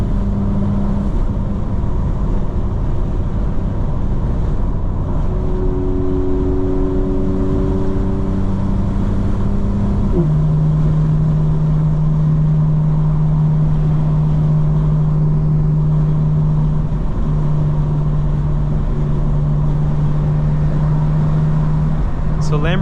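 A 2025 BMW M4 (G82) engine while driving: a steady, loud drone with cabin road noise and a clear pitch change midway as the revs shift, continuing evenly to the end.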